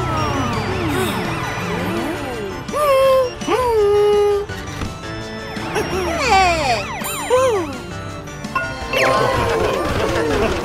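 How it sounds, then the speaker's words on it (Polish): A police car siren wails in the Car City World mobile game, repeated rising and falling tones mixed with cartoonish game music and effects, loud and up close. "Po włączeniu syreny wszyscy się rozjeżdżają na bok!"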